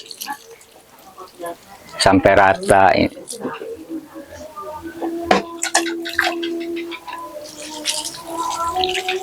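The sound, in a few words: water poured onto clay and sand mixture for pottery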